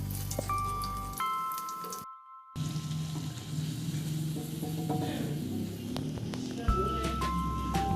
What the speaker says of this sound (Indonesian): biasanya adonan ini akan saya goreng terlebih dahulu